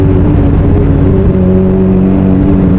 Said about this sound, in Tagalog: Medyo traffic ngayon, ano?